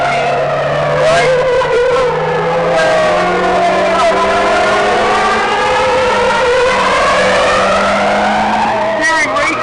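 A car engine revs and climbs through gears while driving, its loud rising and falling tone steady throughout, with tires squealing faintly and a person talking over it.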